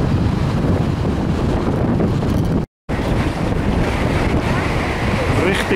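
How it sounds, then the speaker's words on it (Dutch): A stormy wind blows by the sea along the Nieuwe Waterweg at Hoek van Holland, a loud, constant gusting roar buffeting the microphone with wave noise beneath and one brief dropout. "Het stormt."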